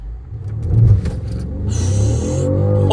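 A BMW 550i launches hard from a standstill, its engine rumbling up as it revs and accelerates, heard from inside the car with a rising whine and a steady roar building over three seconds.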